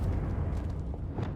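Confringo blasting spell going off in the video game Hogwarts Legacy: a brief, steady, rumbling burst of broadband blast noise with a heavy low end, loud and close.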